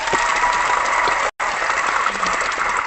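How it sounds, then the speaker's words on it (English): Brief group applause during an online team hangout, a dense even patter of claps broken by one short dropout midway. "I'll give myself a round of applause for that one"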